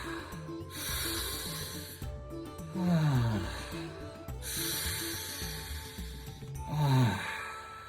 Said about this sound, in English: Continue to breathe, follow your breath.